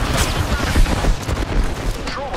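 Loud, dense gunfire from the video game Apex Legends, a continuous burst of rapid shots and booms with overlapping impacts throughout the short stretch, no clear gaps between volleys.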